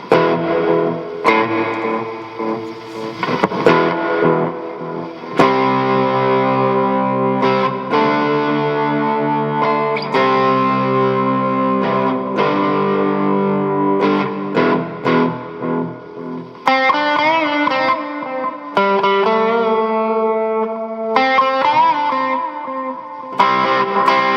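An electric guitar plays chords and single notes through a Boss RV-6 reverb pedal with echoing delay repeats and a reverberant tail, ringing steadily without any talking.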